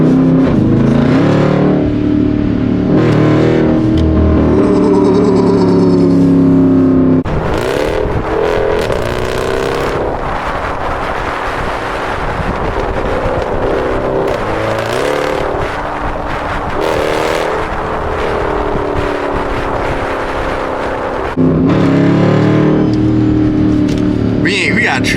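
An SRT Jeep drives on wet winter roads, its engine revving hard in rising and falling surges with loud, close bursts of acceleration, while voices are heard over parts of it.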